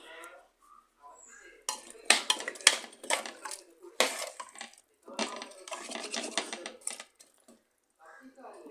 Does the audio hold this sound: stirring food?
yes